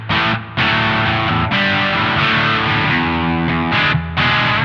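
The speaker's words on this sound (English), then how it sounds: "Without the boost, it kind of is a mid-gain overdrive pedal, I think." A distorted electric guitar rings through a T-Rex Mudhoney pedal set to mid-gain overdrive, strumming loud chords with a couple of short gaps between them.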